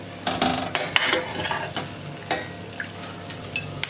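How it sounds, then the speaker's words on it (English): Chicken stew components being fried and stirred in a pan, with clattering utensil scrapes, metallic clinks and a soft sizzle in a home kitchen, fairly close and without talk. "Finish frying."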